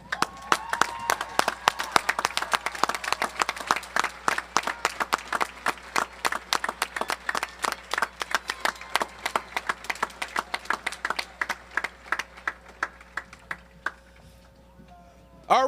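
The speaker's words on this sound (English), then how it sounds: "Everyone, please stand and give them another round of applause." Graduation audience at a high school ceremony claps steadily in a dense, sustained round of applause that gradually thins out toward the end.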